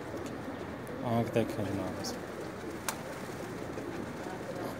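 Pigeons coo in a loft during a pigeon-keeping session in Jeddah, Saudi Arabia, with a short burst of low cooing near the middle under a man's speech and a steady background hum.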